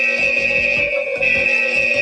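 A loud, piercing nuke alert tone repeats in a steady pulsing pattern, shrill and tinny from an 8849 Tank 4 phone speaker.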